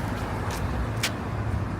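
A Porsche passing on a New York City street, a brief engine rumble under a constant wash of city traffic, near and moderately loud, no talking.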